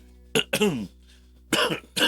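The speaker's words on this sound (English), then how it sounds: "It's good to give it a good cough to start with, right?" A person coughs several times in short harsh bursts, two together then a pause and two more, close and clear.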